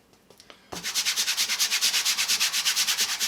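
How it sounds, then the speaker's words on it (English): Brisk rhythmic rubbing of paint onto a canvas, a rapid even series of scratchy strokes that starts abruptly after a few soft taps and continues alone. "we'll just rub that right onto the canvas"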